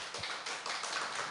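A church service audience applauds together, a soft, dense wash of many hands clapping at a moderate distance, steady and brief with no talking over it.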